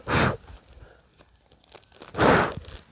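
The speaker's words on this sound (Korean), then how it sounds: "비닐봉투죠." A plastic bag crinkles in two short, crisp bursts of handling close to the microphone during fruit-tree grafting in a field, with quieter rustles and clicks between them.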